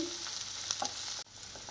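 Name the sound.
vegetables stir-frying on high flame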